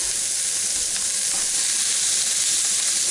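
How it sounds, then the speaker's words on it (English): Chopped onion sizzles in a hot cast iron skillet, a steady, dense frying hiss that holds evenly from start to finish with no voices over it. "I'm going to add my onion, let that start cooking"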